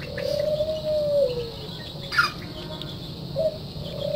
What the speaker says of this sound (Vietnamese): Đang cho hai con chim cu ăn một bu bu bu